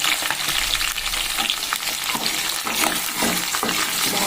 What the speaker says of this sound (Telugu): కాస్త బాగా దోరగా వేగిన తర్వాత నెక్స్ట్ కట్ చేసి ఉంచుకున్న ఉల్లిపాయలు